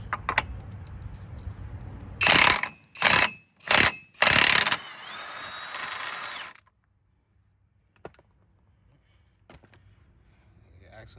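A ratchet wrench with an extension and swivel working 15 millimeter suspension bolts loose, four quick bursts of rapid clicking followed by a longer ratcheting run, then quiet with a few scattered metal clinks.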